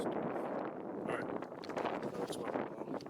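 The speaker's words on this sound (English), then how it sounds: "it's getting pretty windy out here." Wind gusts across an outdoor cemetery in a steady, rough roar, buffeting the microphone at a low level for a few seconds with no clear voices.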